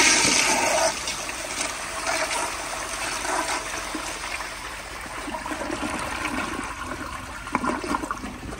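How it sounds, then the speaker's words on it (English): A 1972 Kilgore Argus toilet flushes on full pressure: a strong rushing surge at the start settles into a lengthy gurgling trickle and refill, heard close with no voices. "So here is a flush on full pressure."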